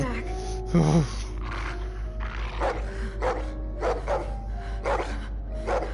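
A dog growls and snarls in Telltale's The Walking Dead, close up and sharpest near the start, with rumbling growls going on under the talk.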